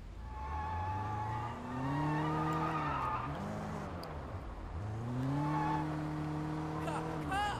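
A car in Sleeping Dogs slides through a failed drift, tires squealing in long wavering tones over a steady engine drone that rises and falls, continuous and fairly loud throughout.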